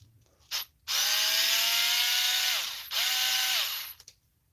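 Power tool driving out the front screws of a HoBao RC differential, two sustained whirring bursts with falling pitch at each stop, close and loud, with a brief click before.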